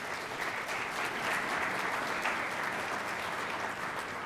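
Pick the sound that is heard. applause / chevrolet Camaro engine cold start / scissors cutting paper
applause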